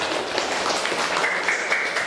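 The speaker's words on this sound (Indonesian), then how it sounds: "tepuk tangan untuk kelompok 4" Classroom clapping for a group of students, a short burst of scattered applause from a small room.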